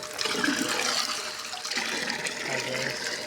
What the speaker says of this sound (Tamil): மலோட செடிக்கும் மாங்கன்றுக்கும் தண்ணி ஊற்ற போகிறோம்